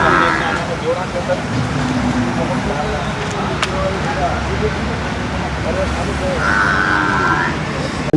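Buffalo calves mooing at a cattle market in Erragadda, amid a busy outdoor crowd, with a couple of drawn-out calls standing out over constant chatter and background noise.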